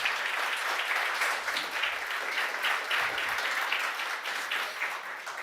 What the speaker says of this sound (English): Give a round of applause to this panel.